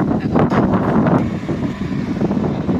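Strong wind buffets the microphone in a loud, continuous roar with gusty rumbling, and no one speaks.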